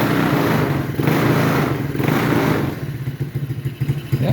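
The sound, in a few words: small electric four-wheeler bike running on booster pack battery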